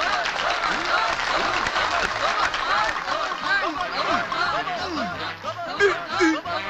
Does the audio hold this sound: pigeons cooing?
no